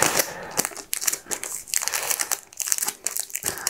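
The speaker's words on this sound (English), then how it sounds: "Ooh, horrible tape noise." Sellotape pulled off its roll in a run of harsh, crackly tearing bursts with short pauses between them, close by and with no voice over it.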